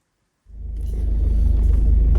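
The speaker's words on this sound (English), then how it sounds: "Just reversing out and get myself out." A Peugeot 206 car engine rumbles as it reverses out, starting abruptly after a short silence and holding as a loud, close low drone.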